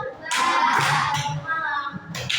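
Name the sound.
children clapping in a clapping game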